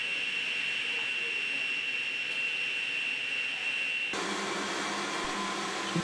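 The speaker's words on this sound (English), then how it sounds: "I'm cutting off basically what the full height of the stool is going to be at this point." A power tool cutting the edge of a black walnut stool to height, a loud sustained high-pitched whine that abruptly shifts to a rougher, lower cutting roar partway through, with no talking.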